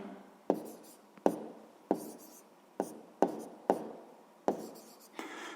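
A pen writes a math answer by hand on paper, heard as a series of about seven soft, close scratching strokes, each starting with a tap and trailing off, quiet and alone.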